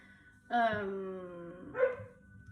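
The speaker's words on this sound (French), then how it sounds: "mon chien aujourd'hui n'a pas envie de rester calme. Je suis désolée si vous l'entendez aboyer." A pet dog gives two barks indoors, the first long and wavering with a whine in it, the second shorter a moment later, fairly close and clear over a quiet room.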